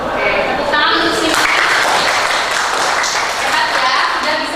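Dense, steady applause from a group fills the whole stretch, broadband and even, with faint voices mixed underneath.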